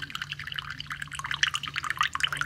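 Water trickles into a cup holding matcha for an iced latte, a close, bubbly pour that grows brighter and busier as the vessel fills, with no talking.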